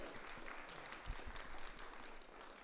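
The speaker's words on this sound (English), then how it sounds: "Let's give them all a big round of applause for being here with us" Applause from an audience at a talk, a faint steady wash of clapping with a couple of soft low thumps, no voices.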